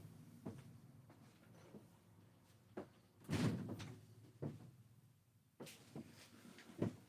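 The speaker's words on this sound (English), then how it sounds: "let me shut this door because this traffic is killing me" A door is shut indoors with a scattering of faint thumps and knocks, the heaviest thud landing midway, against a low background of distant traffic.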